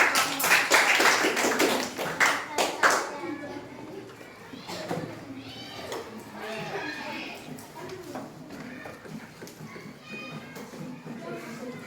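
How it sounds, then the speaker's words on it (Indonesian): Children clapping in applause for a class group in a classroom; a loud burst of rhythmic claps at first, fading out within a few seconds, followed by talking. "Yuk beri aplaus yang meriah untuk kelompok Aceh."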